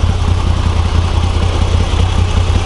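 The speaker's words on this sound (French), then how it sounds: "le moteur est assez discret quand même" A Moto Guzzi V85 TT Travel motorcycle from 2022 idles close by, a steady low engine rumble with even, throbbing pulses that hold at a constant level throughout.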